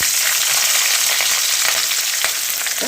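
Garlic and green chillies frying in a pan for a white chickpea curry, a loud steady sizzle filling the whole stretch with a few faint stirring scrapes and no talk.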